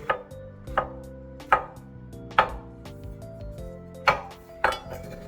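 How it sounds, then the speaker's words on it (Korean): A kitchen knife cuts a plump king oyster mushroom into cubes on a cutting board. Six crisp, evenly spaced chops ring out close and clear over quiet background, with no talk. "딱둑 썰기를 해주세요"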